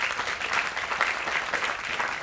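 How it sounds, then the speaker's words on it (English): Church congregation claps during a Sunday worship service, a full and steady round of applause from many hands at close range, continuous throughout. "I want to give them a round of applause."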